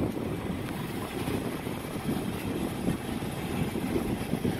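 The indoor blower of a York package unit that is not cooling runs with a continuous low, rumbling whoosh of moving air, steady and fairly loud with no speech over it.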